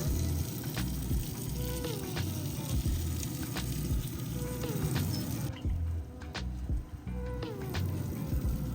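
Ribeye steaks sear on a grill grate of a Grilla Grills Silverbac, giving a continuous soft sizzle and crackle with faint clicks, steady and close with no talking.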